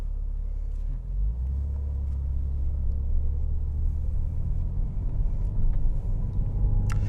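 A Toyota Supra sedan with a 2JZ engine driving, a steady low engine rumble and road noise heard from inside the cabin, building slightly after a brief dip early on, with no talking.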